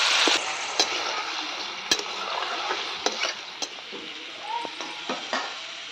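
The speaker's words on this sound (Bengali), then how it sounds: "বন্ধুরা কুমড়ো আলুটা ভাজা ভাজা হয়ে গেছে" Pumpkin and potato pieces frying in oil in a pan, a continuous hiss of sizzling broken by repeated sharp scrapes and clicks of a stirring spoon, close up and moderately quiet.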